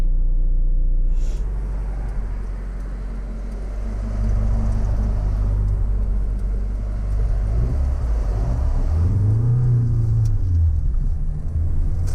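A 1982 Vauxhall Cavalier MK2 with a 1.6L engine runs with a steady low rumble and uneven spluttering, heard from inside the car, with the revs rising and falling near the end.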